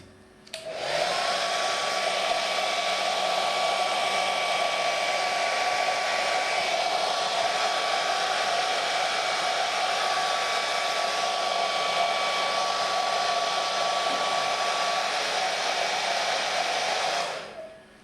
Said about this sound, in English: So I am taking the hair dryer and we will remove all the water here